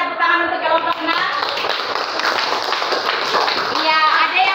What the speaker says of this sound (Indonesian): berikan tepuk tangan untuk kelompok 6